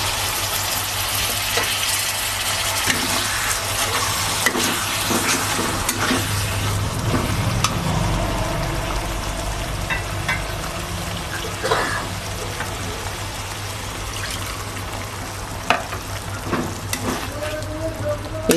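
Chicken frying for a dhaba-style chicken bharta sizzles and hisses loudly and steadily as stock is poured in, with some stirring and liquid sounds.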